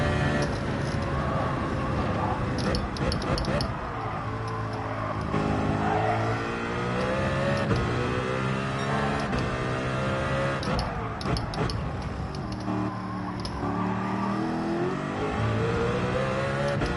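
A car engine in Gran Turismo 7 drones and revs steadily, its pitch rising and falling through gear changes in a continuous loud racing tone, with a voice talking briefly over it.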